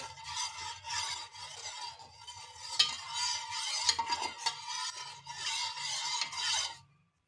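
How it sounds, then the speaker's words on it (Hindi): Sugar stirred into boiling milk for vermicelli custard, a spoon scraping and swirling around the pot in repeated rhythmic strokes, fairly close and clear, then stopping abruptly at the end with no talk. "अब हम अच्छी तरह चीनी को मिक्स कर लेंगे।"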